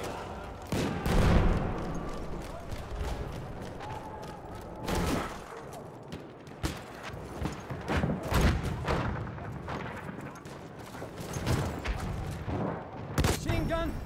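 Machine gun fire in the Battlefield 1 video game comes in sharp bursts and heavy booms. Rapid volleys are spread across the scene at varying distances, with scattered quieter gaps between them.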